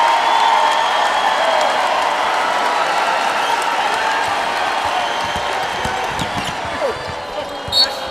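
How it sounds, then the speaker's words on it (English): A capacity crowd in a basketball arena stands and cheers during the 2015 NCAA men's Round of 32 game between Wichita State and Kansas, a loud sustained roar with whoops and clapping, balls bouncing and a commentator talking throughout. "we're hearing from the Shocker contingent in this capacity crowd, standing and cheering"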